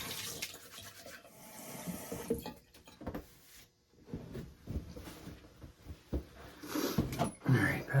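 Water running for a rinse during a wet shave makes a steady splashing flow with sporadic drips and clatter, close and moderate, mixed with faint talk.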